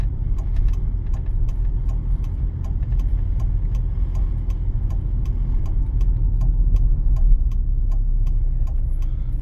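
A car drives through town streets on a driving exam route, its engine droning steadily from inside the cabin, with a faint regular ticking like a turn indicator running throughout.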